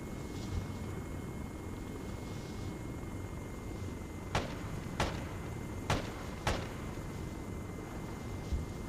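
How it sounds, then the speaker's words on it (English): A video game helicopter's rotor drones as a steady, heavy hum, with a few sharp thumps from countermeasures or impacts cutting through near the middle. "Going as fast as my little rotor will take me."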